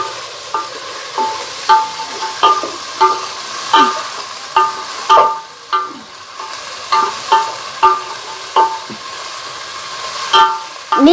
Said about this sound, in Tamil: நல்லா வதங்கட்டோங்க வெங்காயம்.